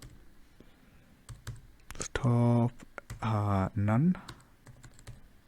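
Python code typed on a computer keyboard: scattered, close key clicks throughout, with a person speaking briefly in the middle.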